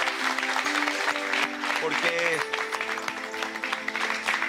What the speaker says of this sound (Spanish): Yo quiero pedir un aplauso para eso.